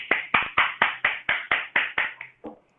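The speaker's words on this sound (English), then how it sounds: "please give your best applause" Applause welcoming composer Mark Matthews to an online piano session: about ten crisp, evenly spaced claps in a steady rhythm, close and fairly loud, tapering off at the end.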